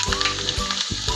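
Garlic cloves frying in hot oil with crackling mustard and cumin seeds, a loud steady sizzle with a few stirring scrapes, no voices.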